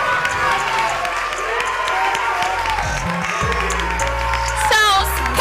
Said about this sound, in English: A round of applause for Xiao.